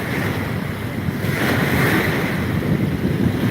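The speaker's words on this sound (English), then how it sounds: "some of these bigger waves are like dangerous for a little boat." Wind and heavy surf surround a small boat on rough water, with a steady loud roar of waves and gusts buffeting the microphone throughout, and no voices.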